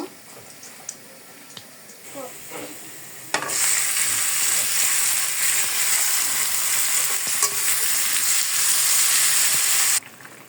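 Small fish coated in spices are dropped into hot oil, setting off a loud, steady sizzle that bursts in after a few quiet moments of light clinks and then cuts off abruptly near the end.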